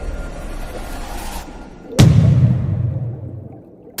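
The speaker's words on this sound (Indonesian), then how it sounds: "The Bloop bukan monster, itu adalah suara ice quake" The Bloop, an underwater ice quake recording: a low, muffled rumble that swells suddenly midway into a deep, booming surge, then slowly fades over a few seconds.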